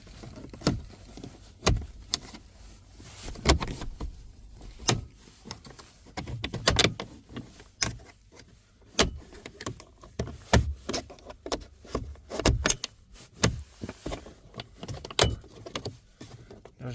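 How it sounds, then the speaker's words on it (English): A plastic pry bar or screwdriver working a plastic trim piece loose from the sliding door of a Dodge Grand Caravan, with repeated sharp close clicks, snaps and knocks in irregular bursts. "you will have to remove this plastic piece. For that you can use some kind of a plastic pry bar or screwdriver"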